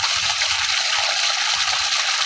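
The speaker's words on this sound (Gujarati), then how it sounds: "મોટર બંધ કરી દે ભાઈ મોટર બંધ કરી દે પાણી આવી ગયું છે ઘણું પાણી કાઢે છે" Water from a pump motor gushes out of a pipe in a steady, loud, continuous rush with no talk over it.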